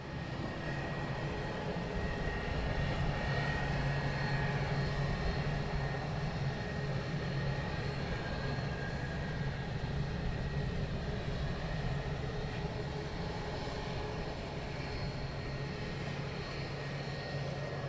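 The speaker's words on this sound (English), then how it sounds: "we have 2 more inbound aircraft" A Wizz Air jet inbound to London Luton Airport gives a steady, broad engine roar at moderate distance, holding even for the whole stretch with no talk.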